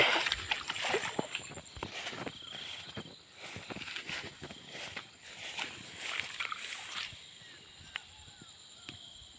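Footsteps slosh and splash through water in a flooded farm field in Northeast India, a steady run of wet strides close by, with insects faintly in the background and no talk.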